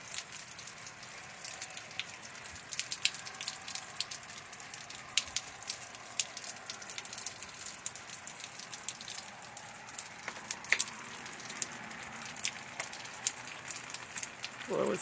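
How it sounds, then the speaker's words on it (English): Summer rain falls on a wet road in Tulelake, a steady patter of dense, crisp drop ticks with occasional sharper splashes, continuous and fairly close throughout. "It's raining in Tulelake."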